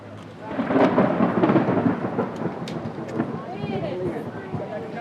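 Thunder rolling through a rainstorm outdoors, a loud deep rumble under rain and wind buffeting the microphone, with voices talking over it.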